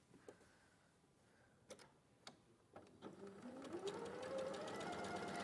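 A sewing machine starts stitching after a few faint ticks and clicks, its motor whine rising and settling into a steady hum that grows louder toward the end.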